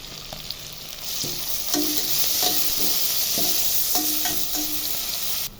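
Onions fry in a hot pan, giving a continuous sizzle broken by several clacking stirs of a utensil against the pan.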